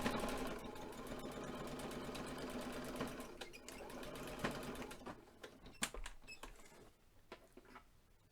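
A sewing machine runs straight stitches along a fold of fabric for a face covering. It whirs steadily at first, then comes in shorter bursts with clicks and pauses, quiet and close.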